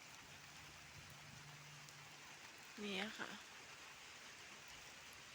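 Steady rain falls outdoors on a garden of golden sweet-leaf bush plants, a soft continuous hiss throughout while someone speaks briefly in the middle.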